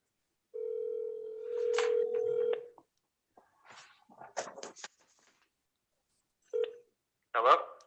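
Telephone dialing tones sound during a court hearing phone call: a long steady tone, then short keypad tones, mixed with brief bursts of nearby talk.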